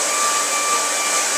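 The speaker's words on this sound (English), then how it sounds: "with the hairdryer" A hair dryer blowing to dry acrylic paint, a loud, steady close-up whoosh of airflow with a constant motor whine throughout.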